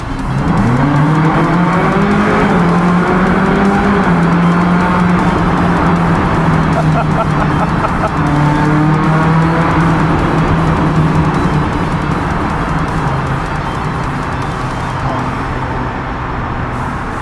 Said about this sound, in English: see what this V8 sounds like going down it. Here we have the Ferrari California tunnel test.